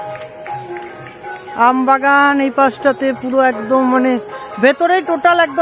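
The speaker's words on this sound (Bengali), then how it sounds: "এই যে আওয়াজটা ঝিঝি পোকার আওয়াজটা" Crickets in a mango orchard at dusk keep up a continuous high, shrill chirring through the whole stretch, while someone talks loudly close by over it.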